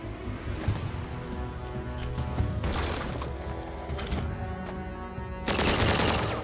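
Gunshots ring out in the Zombotron video game as several loud, sharp bursts of firing come at uneven intervals, with a heavy volley at the end over a busy background of game effects.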